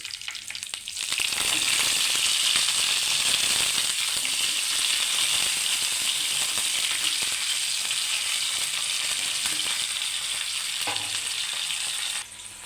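Chillies and curry leaves sizzle loudly in hot oil, a steady bright crackling hiss that starts abruptly and holds for about eleven seconds before cutting off, tempering for a Kerala mango curry, with no talking.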